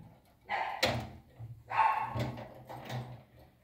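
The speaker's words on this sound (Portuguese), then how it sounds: "O Malco tá latindo de novo." A pinscher barks a few times in short bursts, fairly close, with brief pauses between barks, in a bedroom at night.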